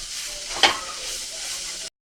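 Spring onion greens stirred into a potato stuffing mixture for mirchi vada, a steady close hiss with one short scrape of the spoon, no talking.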